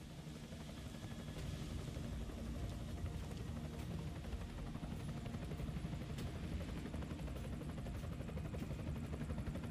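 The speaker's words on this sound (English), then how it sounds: "Enemy helo sighted." An enemy helicopter in a tactical shooter video game gives a continuous, faint rotor drone that holds evenly throughout, with no speech over it.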